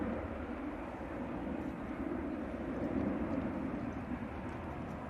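An airliner climbing out from Manchester Airport after takeoff, a steady distant jet engine roar, even and sustained with no distinct gear clunk, heard alone without talk.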